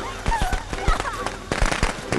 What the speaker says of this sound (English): Firecrackers went exactly into his face.